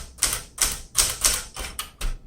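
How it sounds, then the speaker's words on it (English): Typing on a 1968 Smith Corona Super Sterling manual typewriter: about six crisp, bright key strikes in an even rhythm, each a sharp metallic clack, close and clear with no talking. "So, this is a great typewriter."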